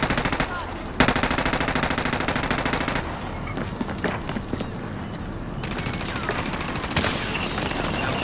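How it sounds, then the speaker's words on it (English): Gunfire in an online shooter game with a sniper duel, dense bursts of shots crackling loud and close throughout, with a cleaner stretch in the middle before the heavy firing resumes. "Sniper war for days."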